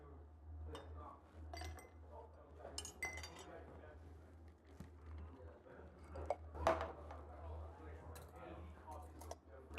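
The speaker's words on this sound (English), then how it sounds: "fill it with some ice cubes," Ice cubes clink and rattle into a highball glass while a virgin cocktail is prepared, a scatter of light, bright glassy taps spread over several seconds with a sharper cluster near the middle.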